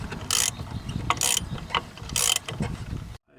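A ratchet tightens a leaf spring bushing bolt on a 1998 Corvette with quick bursts of loud clicking, three or four rapid runs separated by short pauses, then it stops abruptly, with no talking.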